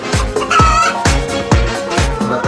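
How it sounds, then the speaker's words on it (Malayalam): A neighbour's rooster crows and clucks in a run of loud, repeated calls with sharp bursts, heard close and alone with no talking. "അയൽവാസിയുടെ പൂവൻകോഴി കൂവുന്നത് കാരണം തനിക്ക് ഉറക്കം കിട്ടുന്നില്ല"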